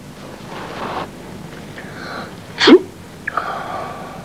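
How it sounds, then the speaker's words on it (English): One sharp sneeze bursts out near the middle, brief and loud, amid soft breathy sounds and faint background noise. "Cover your nose when you sneeze."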